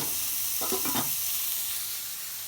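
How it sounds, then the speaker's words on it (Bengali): Rohu fish frying in a pan, a steady soft sizzle with a brief burst of stirring and scraping near the middle, otherwise even and fairly quiet. "এখন মাছটি সুন্দর করে লাল লাল করে ভাজা"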